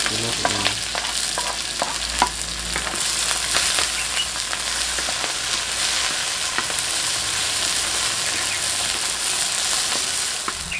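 Chili, shallot, garlic, galangal and tomato fry in hot oil with a dense, steady sizzle, punctuated by scraping and clinking as the mixture is stirred in the pan.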